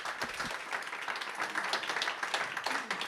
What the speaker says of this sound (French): Et on peut t'applaudir.